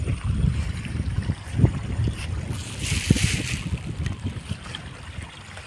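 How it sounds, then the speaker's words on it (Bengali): Fast-flowing water rushing through a village river channel, a steady broadband rush with gusts of wind buffeting the microphone, no voices. "জলটা অনেক স্পিডে আসছে, দেখতে থাকো তোমরা এই জল"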